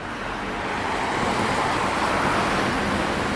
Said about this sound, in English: A fair amount of traffic out.